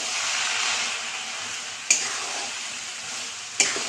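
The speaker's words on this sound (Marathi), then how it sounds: "एकसारखं असं हलवून घ्यायचं आहे।" Coarse wheat porridge with melting jaggery is stirred in a hot pan, giving a steady hissing scrape throughout, punctuated by two sharp clicks of the spoon against the pan.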